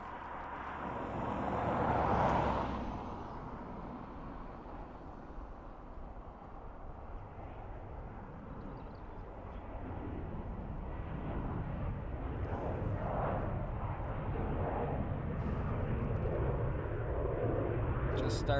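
An Airbus airliner takes off from Dublin Airport bound for San Francisco, a broad, moderately distant engine rumble that swells and lingers while a person talks over it.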